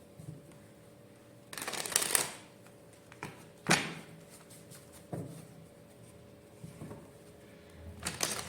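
Tarot cards shuffled for clarifier cards in a quiet room, a few brief riffling bursts separated by pauses, close and moderately soft, with no talking.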